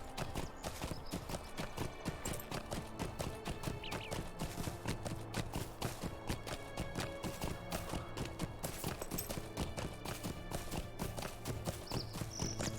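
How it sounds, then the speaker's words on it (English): A mount trots through Lord of the Rings Online, its steady clip-clop hoofbeats continuous and close, with ambient game music and scenery sounds underneath and no talk. "What a nice horse for them to randomly choose."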